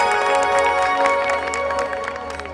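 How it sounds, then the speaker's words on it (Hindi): Applause from the audience at a Shyam Baba jagran, a Hindu devotional night gathering, rattles as steady, fairly loud clapping underneath sustained tonal music. "तालियां बजा करके स्वागत करें।"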